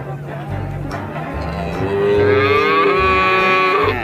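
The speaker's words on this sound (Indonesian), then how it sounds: "Wow, ini dia kerbaunya" A toy water buffalo gives a loud, drawn-out electronic moo that rises in pitch over the second half. Lower thumping sounds come first, and there is no clear talking.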